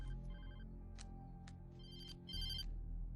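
Phone ringing in the Alan Wake Remastered video game, an electronic ringtone repeating in short bursts over a low, steady game-music drone with no talking.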